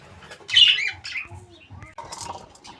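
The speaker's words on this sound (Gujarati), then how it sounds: "લાવ્યો છે 3 પોપટ" Parrots newly brought to a mini zoo, giving a loud harsh squawk followed by a few softer calls and chirps, close by with faint voices in the background.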